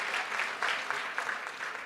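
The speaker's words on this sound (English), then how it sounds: "A round of applause." Moderate applause from an audience at a national parole review summit, a steady wash of clapping with no voices over it.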